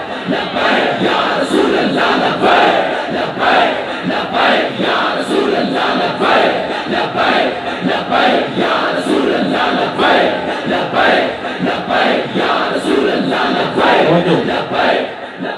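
A large crowd at a religious rally chants slogans in unison, loud rhythmic shouted phrases repeating every second or so in a steady cadence, filling a big outdoor space.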